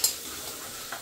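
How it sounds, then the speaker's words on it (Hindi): Onions fry in oil in a kadhai, a soft steady sizzle with a brief clink at the start and another light tap near the end. "कढ़ाई में सबसे पहले डालेंगे ऑयल, उसमें डालेंगे प्याज।"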